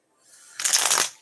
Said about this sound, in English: That's a good shuffle.